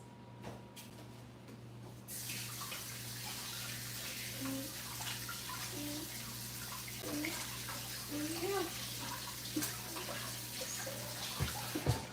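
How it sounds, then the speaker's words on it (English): Tap water runs steadily in a home kitchen sink while hands are washed partway through making biscuits with kids, a continuous broadband wash with faint clinks and soft voices and music in the background. "Let's wash our hands."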